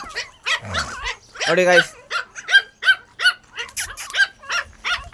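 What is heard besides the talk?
shih tzu puppies barking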